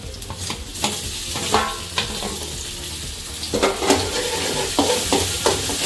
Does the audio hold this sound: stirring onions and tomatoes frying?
yes